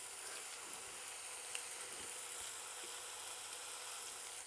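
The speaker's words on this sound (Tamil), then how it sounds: "இது இப்போ செகண்ட் பேட்சும் நல்ல கலகலன்னு பார்த்திங்களா சவுண்டு, அது மாதிரி கலகலான்னு ஃப்ரை ஆன வரைக்கும் வைக்கணும்" Lotus stem Manchurian frying crisply in hot oil, a steady dense sizzle with fine crackles running evenly throughout, close and alone without talk.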